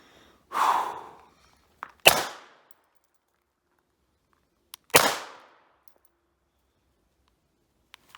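Hi-Point CF380 pistol shots at an outdoor shooting range: three sharp, loud reports spaced a few seconds apart, with a duller thump first and faint clicks of handling in between.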